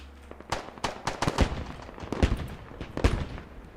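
Rapid bursts of gunfire in a multiplayer shooter match, several sharp shots clustered in short volleys over a low hum, loud and close, with no talk.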